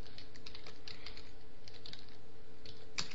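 Fingers type steadily on a computer keyboard, a close, continuous patter of quick, light key clicks with no voices.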